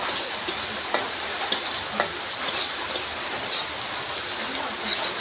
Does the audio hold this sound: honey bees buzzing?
no